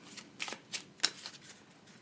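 A deck of Plague Inc. country cards is shuffled in a few quick, soft riffling bursts, close and quiet with no talk.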